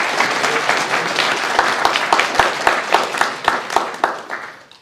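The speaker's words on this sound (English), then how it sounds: "yeah, you can clap." Audience clapping at a guide dog class graduation, a dense, steady round of applause with sharper individual claps standing out, holding fairly loud and then fading toward the end.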